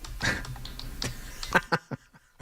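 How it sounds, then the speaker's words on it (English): Rapid clicks of someone typing on a computer keyboard in a sports radio studio, a few sharper keystrokes standing out near the end, close and moderately loud. "you're typing enough over there"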